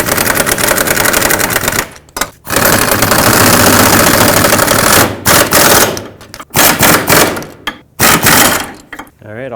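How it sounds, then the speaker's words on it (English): A pneumatic air impact wrench hammers trailing arm bolts on a 2005-2009 Chevy Equinox, firing in loud, rapid rattling bursts separated by short pauses, close to the tool. "There's no way for me to torque this, so that's why I'm using just my air gun."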